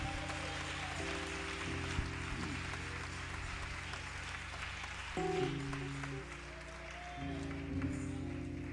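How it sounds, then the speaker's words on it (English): A church congregation claps in praise during a sermon, a sustained, fairly faint wash of hands over held organ or keyboard chords that shift throughout. "Clap your hands and give God praise."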